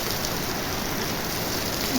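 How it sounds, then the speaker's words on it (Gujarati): Steady, dense hiss of rain falling, an even wash of patter with no breaks, moderately loud and close. "આજે આપણે તમે જોવો છો વરસાદ આપણે આવી ગયો"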